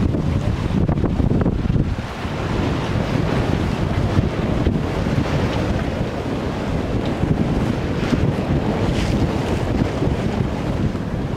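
A sailboat under sail at full speed off the Croatian coast, with steady loud wind buffeting the microphone and waves and water rushing continuously along the hull throughout, no voices.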